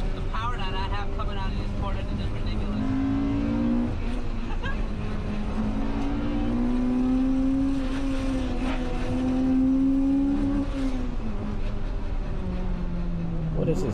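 A Mazda RX-7 FC's engine revs hard and climbs through gears during a touge mountain race, its pitch rising and falling continuously while people talk excitedly over it.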